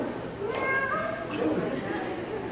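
A person imitates a cat, giving a few drawn-out meows in a human voice with some talking mixed in.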